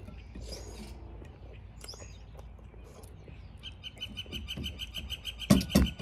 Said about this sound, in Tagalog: Diba, maingay na yung mga ibon.